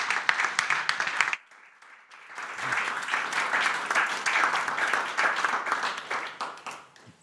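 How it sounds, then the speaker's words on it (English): A seated audience at a music talk event claps to welcome two guests onstage, a full, sustained round of applause that rises and keeps going for several seconds after a brief lull, following a host's voice. "Round of applause, please."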